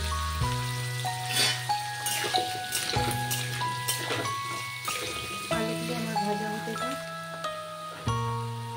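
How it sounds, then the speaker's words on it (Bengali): Potatoes with turmeric frying in oil for a Bengali jackfruit and prawn curry, a soft crackling sizzle in the background while sustained musical tones play over it. "এবার আলুগুলো দিয়ে আমি ভেজে নেব।"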